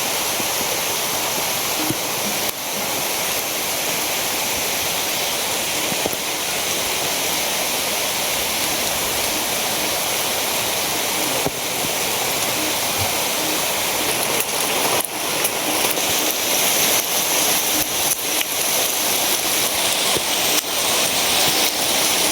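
Heavy rain pours steadily and loudly around a house, a dense unbroken hiss with no pauses from start to finish.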